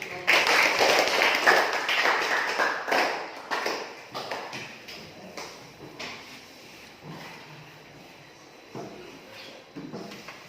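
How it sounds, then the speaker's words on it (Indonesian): Applause from students in a classroom, dense and loud at the start, then thinning into scattered, fading claps. "berikan aplaus untuk"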